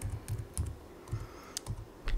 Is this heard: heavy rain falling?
no